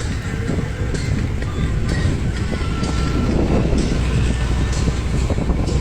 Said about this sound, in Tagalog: Lakas talaga ng hangin dito